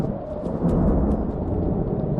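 Thunder rumbles with lightning in the Evil Nun horror game, a deep, continuous roll that swells briefly and then holds steady.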